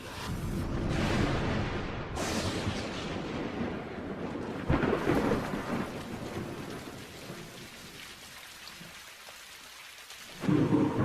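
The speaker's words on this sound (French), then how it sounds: "Des tempêtes tropicales s'abattent sur la planète." Heavy rain pours steadily while thunder rumbles and cracks, with louder bursts near the start, middle and end.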